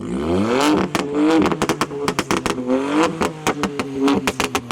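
A stage 2 tuned 1-litre three-cylinder VW Up making 160 bhp revs repeatedly, rising and falling in quick bursts with crackling pops between throttle blips, close and loud.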